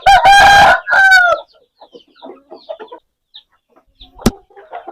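A purebred aseel breeder rooster crows loudly and close, two strong calls, then clucks softly in short scattered bursts with one sharp knock.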